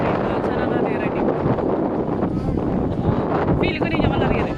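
Strong wind buffets the microphone in a continuous loud roar with gusty surges, outdoors near a horseback riding area; no talking stands out over the rumble.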